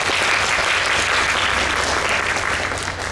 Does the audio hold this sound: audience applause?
yes